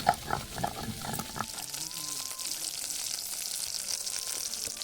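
Eggplant frying in oil gives a steady, close sizzle with a few sharp clicks and spatters near the start, then settles into an even hiss throughout.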